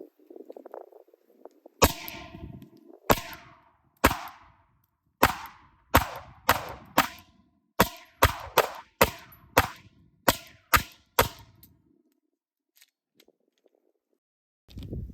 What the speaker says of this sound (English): Let's get shooting. We're starting out with the non-compensated Shadow Systems build.